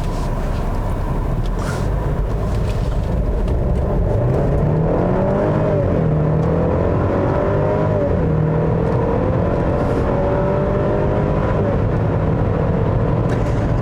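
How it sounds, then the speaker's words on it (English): A 2020 Mercedes GLC300 SUV accelerates to highway speed, with a steady cabin drone and rising whine that climbs in pitch through several upshifts over road noise, with no talking. "this thing will get up to highway speeds pretty quickly, so it has enough power for most people"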